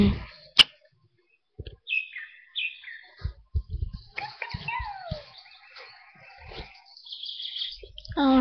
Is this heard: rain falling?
no